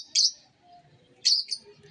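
Green opaline Fischer's lovebirds with chicks in an aviary, making two short, bright, high chirps about a second apart, close and clear over a quiet background, with no talking.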